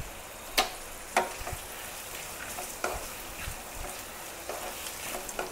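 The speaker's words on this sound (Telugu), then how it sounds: "సో ఇది మంచిగా ఫ్రై అవ్వాలన్నమాట ఆనియన్స్." Onions and green chillies frying in a pan for a home-style chicken curry, a steady close sizzle with occasional sharp pops and stirring clicks throughout.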